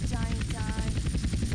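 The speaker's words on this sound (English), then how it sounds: "I'll stay here because I don't want them to steal my helicopter." A helicopter in GTA San Andreas thrums with a steady rotor chop, close and continuous, while a voice talks over it.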